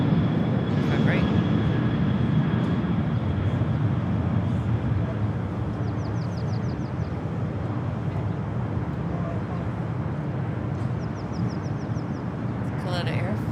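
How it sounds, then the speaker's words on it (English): A Kalitta Air Boeing 747 freighter taking off at LAX sends out a continuous low engine rumble, with brief chirping birdsong at intervals and a faint voice in the background. "Coletta Air, flight number 534, heading off to Anchorage on a Boeing 747 for freighter."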